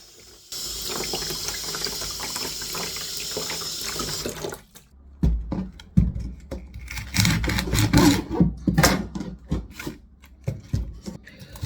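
Tap water runs steadily into a sink, then breaks into uneven splashing and rubbing as a butternut squash is scrubbed by hand under the stream.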